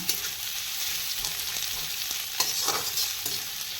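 Steady, loud sizzling of food frying in an iron wok as it is stirred, with occasional scrapes and clinks, no voices.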